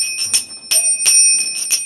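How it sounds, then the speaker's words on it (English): A hand bell rung in several quick, bright clangs with short gaps, close and fairly loud, heard alone during a devotional gathering. "Prabhupada in Mayapur, he's just ringing the bell, going round today to his disciples"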